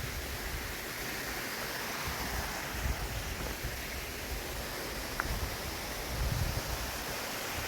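Water rushes through a canyon in Albania as a constant broad roar heard from a distance, fairly faint and unbroken, with a soft rise in low rumble near the end and no voices.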